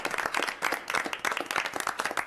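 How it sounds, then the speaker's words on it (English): Applause and clapping at a city council meeting for a group of award winners, a steady patter of many hands lasting a couple of seconds at moderate volume in a room. "A round of applause to all of our winners."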